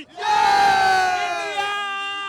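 A large cricket crowd at an India vs Pakistan Champions Trophy match roars a long, sustained chant, many voices rising together into one loud swelling cry that holds steady and fades slightly.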